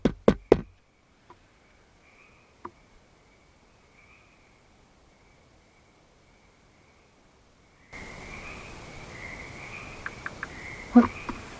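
A few sharp knocks at the start give way to faint scattered taps, then a hum of frogs and insects rises with a couple of louder clicks, all outdoors at night at Sawmill Cove.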